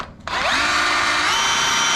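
A DeWalt 54V hammer drill spins up abruptly and runs at a steady, high whine, loud and close, continuing without pause.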